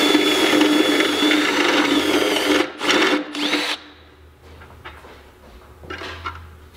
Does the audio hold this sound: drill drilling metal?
yes